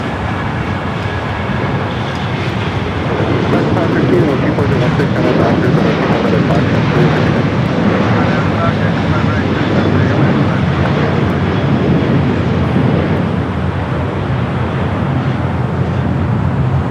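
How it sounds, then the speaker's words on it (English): An Airbus A330-300 airliner, eight years old, on flight 69 from Dublin, rumbles steadily at an airport, its broad engine roar loud and sustained throughout, with no talk over it. "this flight coming up from Dublin, flight 69, the A330-300"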